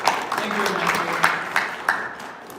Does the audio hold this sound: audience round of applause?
yes